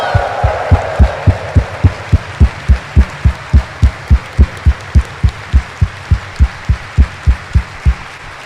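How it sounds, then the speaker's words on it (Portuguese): Steady rhythmic clapping from a congregation during a Sunday Mass homily, a regular beat of about three claps per second carrying on throughout, moderately loud in a reverberant church. "Dê uma salva de palmas para ele, gente."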